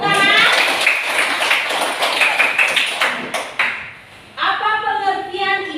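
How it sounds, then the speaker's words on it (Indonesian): Students in a classroom clap their hands in a short, uneven burst of close claps, with voices heard before and after the clapping. "Terima kasih, tepuk tangan."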